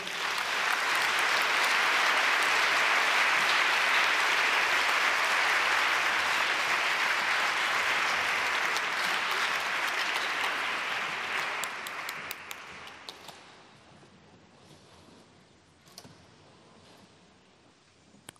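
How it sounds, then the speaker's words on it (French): An audience at a laureates' ceremony applauds in a dense, loud, sustained wave of clapping that fades after about twelve seconds into sparse scattered claps and quiet room tone. "Et nous pouvons applaudir désormais tous les lauréats de cette promotion."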